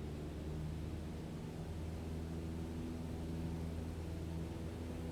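Steady, unbroken drone of an aircraft engine held at full throttle in Microsoft Flight Simulator, with a constant low rumble and a hiss layer at an even level throughout and no voices.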